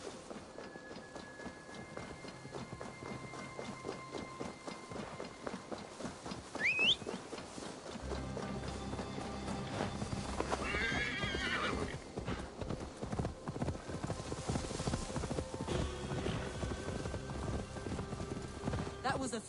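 Hooves clip-clop steadily on a horse in Assassin's Creed Valhalla, with a brief whinny partway through, set over rain, distant thunder and a game score, while characters talk at times.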